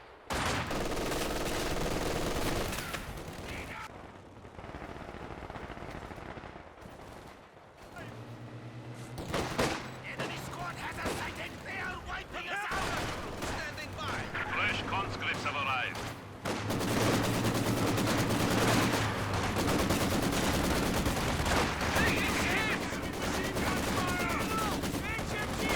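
Battlefield skirmishes in Company of Heroes 2, a 4v4 match: sustained rifle and machine-gun fire with occasional heavier blasts, dense and continuous at mid distance, with a commentator talking over it.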